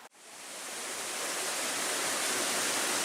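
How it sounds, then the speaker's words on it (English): Small waterfall beside a little footbridge on a wooded river trail, a steady broadband rush of falling water that holds loud and unbroken throughout, with no voices. "this is where a nice little waterfall is"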